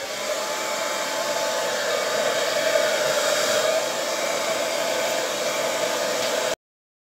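Hair dryer blowing steadily across poured acrylic paint on a canvas, a continuous close, loud airflow whir lasting about six and a half seconds before cutting off abruptly.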